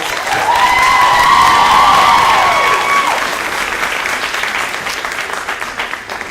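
Audience applause at a Founder's Day ceremony, a dense wash of clapping that peaks early and slowly thins out, with a few cheers and whistles near the start and no speech over it.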